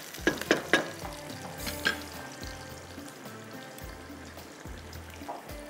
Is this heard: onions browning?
yes